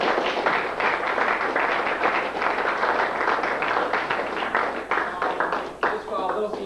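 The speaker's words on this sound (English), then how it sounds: "So I'd like for all the players to give a round of applause." A round of applause from players at a soccer banquet, a steady wash of clapping that runs for several seconds with voices mixed in the room.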